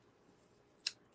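A single crisp snip of scissors through paper during card making, one sharp short cut over a quiet background.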